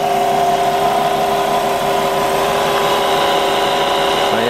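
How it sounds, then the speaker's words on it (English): The engine of a 2006 Volvo runs at idle with a loud, close, even hum that stays constant throughout, with no knocks or misses. "Engine's running good. No smoke, no knocks, no ticks,"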